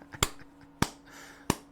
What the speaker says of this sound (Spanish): Aquí aplaudo, ¿no?